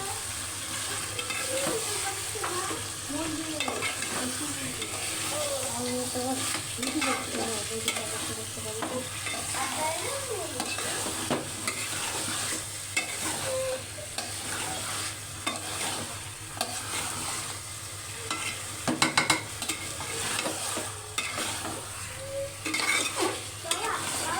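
Raw onion frying in a pan, a steady sizzle under frequent stirring scrapes and occasional utensil knocks against the pan, close and continuous, with no talking.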